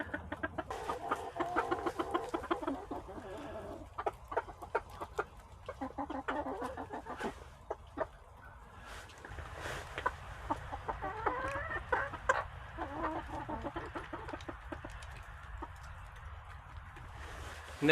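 Several chickens cluck and chatter nearby in a busy, overlapping stream of short calls while eating mealworms, fairly quiet overall.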